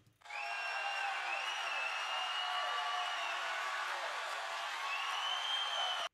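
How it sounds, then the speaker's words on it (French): A crowd effect recorded in an arena, stretched out and drenched in heavy reverb, forms a smeared, continuous wash of voices with drawn-out tonal streaks and small artefacts, steady from start to end. "l'arrière de la voix qui est en fait un effet de foule dans une arène"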